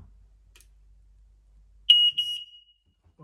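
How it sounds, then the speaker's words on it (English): Smoke alarm tested in a rental property during a checkout inspection: one short, shrill electronic beep burst lasting under a second, close and loud after quiet, with no talk. "I want to test the smoke alarm."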